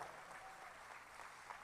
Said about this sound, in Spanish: Así que dése un aplauso por estar aquí en esta congregación.